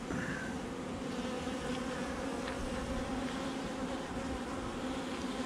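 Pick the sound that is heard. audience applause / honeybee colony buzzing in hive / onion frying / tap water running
honeybee colony buzzing in hive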